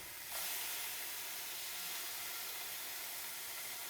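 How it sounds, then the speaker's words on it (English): A burger cooking in a hot pan gives off a loud steady hiss of sizzling and steam, starting abruptly and then holding an even, close wash of noise with no talking. "You can see that there's a lot of steam coming from the pan right now."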